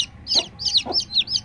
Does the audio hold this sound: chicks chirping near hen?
yes